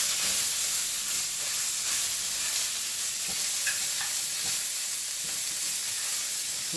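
Eggs and sausage sizzle in a hot pan, a steady loud crackling hiss with small pops and scraping stirs throughout.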